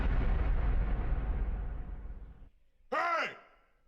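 A cannon in a video game fires with a heavy boom that rumbles and fades over about two seconds, followed after a short pause by a brief vocal sigh-like sound.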